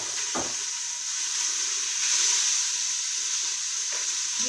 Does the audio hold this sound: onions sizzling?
yes